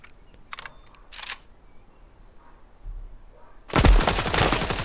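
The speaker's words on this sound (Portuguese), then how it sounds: "Vou até recarregar aqui." A weapon is reloaded in the mobile shooter Standoff 2: a few short mechanical clicks and clacks sound early on, then a loud burst of gunfire breaks in near the end.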